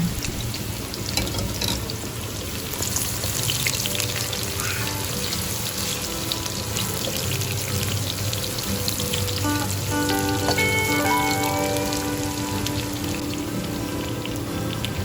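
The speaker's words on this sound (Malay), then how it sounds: "kita boleh tumis bawang merah dan bawang putih dengan minyak secukupnya. Tumis hingga naik bau." Steady crackling sizzle of shallots and garlic frying in hot oil, continuous and close, with occasional soft scraping and faint tones in the background.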